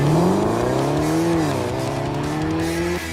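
A Mercedes SLS AMG Roadster pulls hard past at close range, its engine note climbing through a rev, dipping briefly at a shift, then rising again, loud and alone with no talking.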